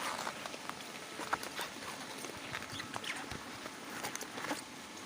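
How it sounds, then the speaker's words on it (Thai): Heavy rain in a storm with wind, a dense steady patter of drops hitting surfaces close by, with scattered sharper taps throughout and no clear speech. "ฝนตกครับฝนตกหนักเลยเป็นฝนเป็นลม"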